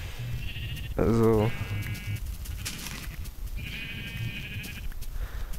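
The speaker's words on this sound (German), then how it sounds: "Da haben sich die Schafe vermehrt." Sheep in Minecraft let out a loud, wavering bleat near the start, with a few fainter game sounds and someone talking around it.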